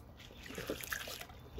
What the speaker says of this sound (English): So I have to dip the test strip 12 inches below the surface of the water